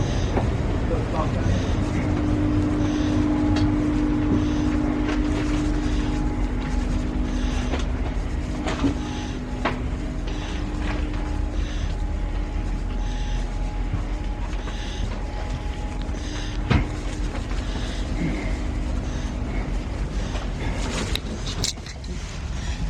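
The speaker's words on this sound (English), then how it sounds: "welcome on board this LNER Azuma to York" Inside an LNER Azuma train heading to York, a steady low rumble of the carriage in motion continues throughout, with a few faint clicks and knocks and indistinct voices in the background.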